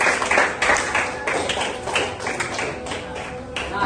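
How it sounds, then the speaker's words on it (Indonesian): A school class claps together on cue in a classroom, a dense burst of applause from many hands swelling and easing in waves for several seconds. "Ini udah betul kasih tepuk tangan sama namanya?"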